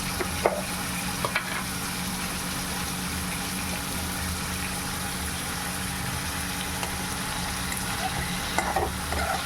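Eggs seasoned with salt and dried chilli powder sizzle in a frying pan as they are stirred, a steady close frying hiss with a few light utensil taps.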